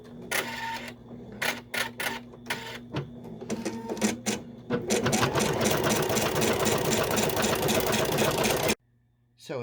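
An embroidery machine stitching along the top of fabric for an in-the-hoop paw Christmas stocking, with a few start-up clicks giving way to a steady, rapid mechanical chatter that runs continuously, then abruptly stops.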